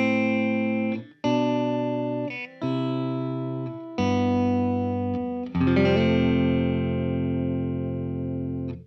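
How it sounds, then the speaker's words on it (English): Dry electric guitar played straight into an amplifier with no reverb pedal: a run of sustained chords, each struck and left to ring, several short gaps between strums, then a final chord rings out and decays, loud and alone. "So this is just the guitar and the amp on its own."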